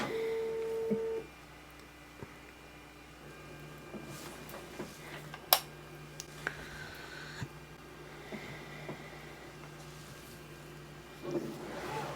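Bambu P2S 3D printer running a print in red filament, a steady low hum with tonal motor whines and scattered small clicks and ticks, close and without talk.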